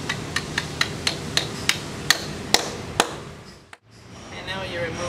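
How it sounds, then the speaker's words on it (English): A sledgehammer drives an anchor into a drilled hole using a setting tool, giving about ten sharp, evenly spaced metallic strikes that grow slightly louder, then a pause with a faint clatter. "you just take your sledgehammer and drive it into the hole"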